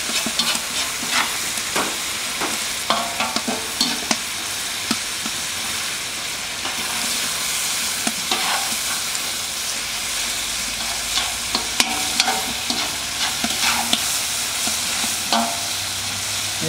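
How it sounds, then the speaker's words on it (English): Onion fries in a pot over an outdoor fire for Middle Eastern plov, a steady sizzle and hiss with scattered stirring clatters and scrapes throughout, close and moderately loud. "So we're gonna put the onion."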